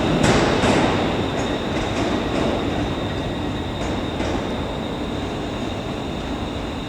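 A Scotrail Class 380 electric train pulls out of Glasgow Central with a steady rumbling roll and a few sharp wheel clicks early on, loud and close, with no talk.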